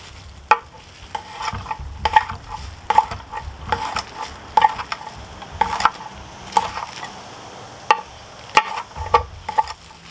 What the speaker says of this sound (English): we're going to go ahead and chop up this jalapeno.